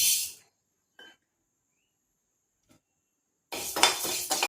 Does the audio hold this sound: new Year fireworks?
no